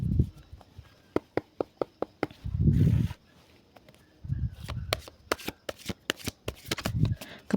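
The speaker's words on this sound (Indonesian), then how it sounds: "Oke, ambil beberapa kartu lagi" Tarot cards are shuffled close up in a quiet room, with sharp riffling flicks in a quick rhythm between softer bridging rustles, and a few low muffled thumps.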